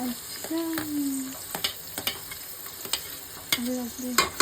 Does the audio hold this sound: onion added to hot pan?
yes